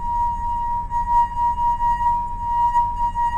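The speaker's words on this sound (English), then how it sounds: "Let's see what happens when we rub the glass now." A wet wine glass sings as a finger rubs its rim, giving a loud, pure, sustained ringing tone with a faint overtone that holds steady and wavers slightly in strength throughout, with no talk.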